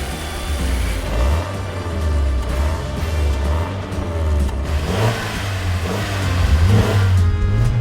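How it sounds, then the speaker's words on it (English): Cheap used sports cars lined up for a drag race rev and accelerate together, several engines droning and rising in pitch close by, loud and steady with no one speaking. "we lined up our cars and prepared to race"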